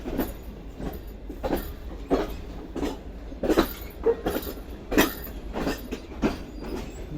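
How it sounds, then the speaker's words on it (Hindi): Slow rhythmic clatter of the Pak Business Express rolling out of Lahore Junction, wheels knocking over rail joints in repeated sharp clicks with steady low rumble underneath, heard from aboard the moving carriage. "मज़ेदार ट्रैक साउंड के साथ ट्रेन हमारी आहिस्ता आहिस्ता निकल रही है लाहौर जंक्शन से।"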